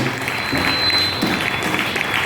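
A church congregation applauding during a French-language worship service, a dense, steady patter of clapping filling the room for a couple of seconds.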